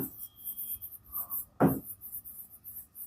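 Pen or marker strokes writing out a quadratic equation math solution by hand, soft scratchy scribbles in short bursts with one firmer stroke midway, quiet and close with no talk.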